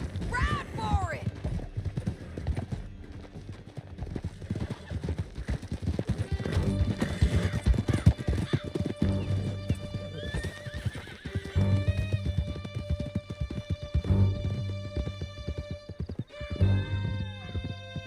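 Horses galloping in Red Dead Redemption 2, with rapid dense hoofbeats, a sharp neigh at the start, and further whinnies over a music score.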